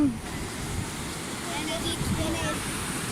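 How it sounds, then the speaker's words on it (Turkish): Sea waves wash onto the shore at Gemlik Kumla in a steady, broad rush of surf mixed with wind noise on the microphone, with faint voices murmuring underneath. "Dalgalar dalmaya devam ediyor."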